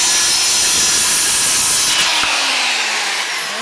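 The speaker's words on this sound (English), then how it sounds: "So I'm going to cut that right now." A saw cuts through a wooden board that will become a shelf for a dresser, giving a loud, continuous, rasping whine close up, which fades as the cut finishes.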